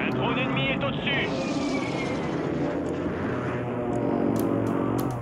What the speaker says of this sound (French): Un drone ennemi est au-dessus.